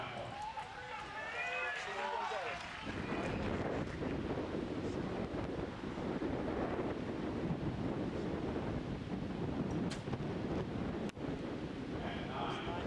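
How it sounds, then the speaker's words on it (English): Strong wind buffets the microphone at an outdoor archery field during a recurve men's quarterfinal at the Yankton world championship, a steady roaring rumble throughout with a commentator speaking over it early on. "the wind sounds dreadful out there, doesn't it?"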